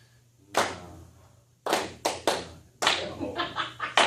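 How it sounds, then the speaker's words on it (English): Hands clapping a steady beat during a group warm-up coaching session: one isolated clap, then a run of sharp claps in a regular pulse, close and fairly loud over a low background hum. "could you just clap the pulse, clap the beat?"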